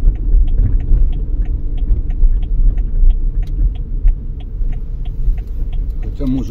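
A car creeps slowly along an ice-covered road near Minsk in winter, its engine rumbling low and steady with a faint repeated ticking over the drone, close and fairly loud, no one speaking.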